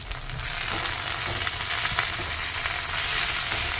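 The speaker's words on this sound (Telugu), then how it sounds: "ఇలా వేయించుకోవాలి ఇలా వేయించేసుకుని" Moringa (drumstick) leaves fry in a pan for a pickle, giving a steady, close crackling sizzle with faint stirring scrapes throughout and no talking.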